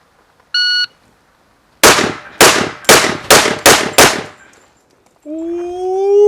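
A single electronic shot-timer beep, then six loud, evenly spaced shots from a 1911 pistol fired at close range, followed by a rising tone after the string.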